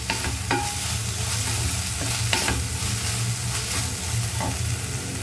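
Steady sizzling of bitter gourd frying in a pan, with a few sharp scrapes of a utensil stirring through it.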